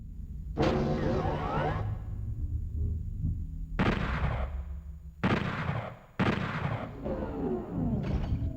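Heavy weapon blasts in the shooter DOOM 64: a series of loud, close booming shots, five in all with a long decaying tail after the first and quicker spacing toward the end.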